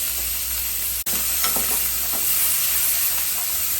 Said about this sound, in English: We are going to add our finely chopped onions.